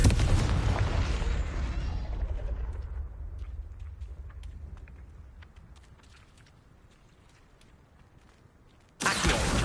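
A Confringo blasting spell detonates in Hogwarts Legacy with a loud, broadband boom up front that rolls off into a long decaying rumble with scattered crackles, followed by a second loud burst right at the end.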